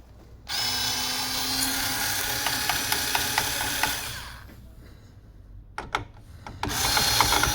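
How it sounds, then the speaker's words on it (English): Screwdriver work opens the case of a Dell OptiPlex 3010 desktop: a dense, steady mechanical whirring and grinding for several seconds, then a quieter pause broken by a few sharp clicks and a renewed burst of rattling. "then we use the screwdriver"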